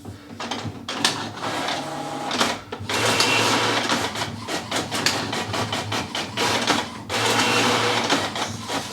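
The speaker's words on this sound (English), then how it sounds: "So what it's going to print out for me is this shipping label and a packing slip." A printer running off a shipping label and packing slip, a close mechanical whirring with rhythmic feed bursts and brief pauses between passes.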